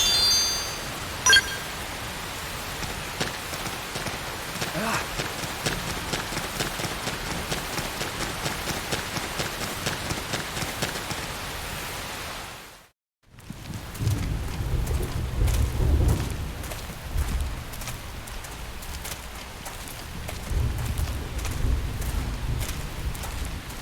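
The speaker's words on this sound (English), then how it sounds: "The rain's starting to let up, just in time for sunrise." Steady rain pours with rumbling thunder in the Xenoblade Chronicles X video game, a dense hiss throughout, briefly cutting out mid-way before returning with deeper low rumbles, no speech.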